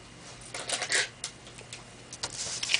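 Scissors make quick snips while cutting small corner pieces from scored cardstock to a score line, coming as several crisp close cuts in short irregular bursts.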